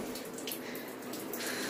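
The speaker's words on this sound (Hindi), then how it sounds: "पानी को बंद करो, पानी वेस्ट हो रहा है।" A tap left running while children brush their teeth, giving a quiet, steady hiss of flowing water with no voices.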